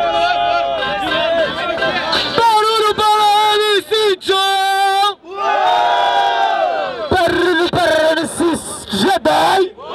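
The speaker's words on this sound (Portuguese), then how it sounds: "Barulho para MC John!" Loud crowd at a Brazilian street rap battle in São Gonçalo roars, cheers and shouts in sustained bursts, voices chanting together with brief dips between waves of noise.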